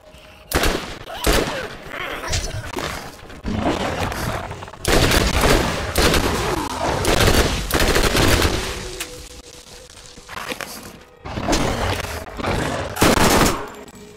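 Gunfire in the Borderlands video game: loud, dense bursts of automatic weapon fire and shots come in repeated volleys separated by brief pauses, with booming impacts mixed in.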